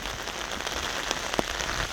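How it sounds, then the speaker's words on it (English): Heavy rain pours steadily in a dense, even hiss, with a few sharper drops spattering close by. "And it's raining the hardest right now."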